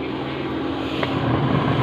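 A twin tub washing machine's dryer drum spins at full power after a repair, giving a steady, loud motor whir and hum that swells slightly toward the end, with no speech.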